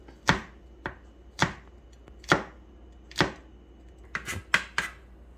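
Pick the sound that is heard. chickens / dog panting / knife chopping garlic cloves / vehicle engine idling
knife chopping garlic cloves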